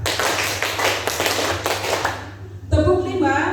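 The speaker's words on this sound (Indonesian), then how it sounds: "Tepuk empat, dua kali ke kanan, dua kali ke kiri." Hand claps in a group clapping-pattern exercise, a 'clap four' sequence, sound as rapid repeated taps over a steady low hum, ending in a brighter burst of claps and a brief chord-like tone.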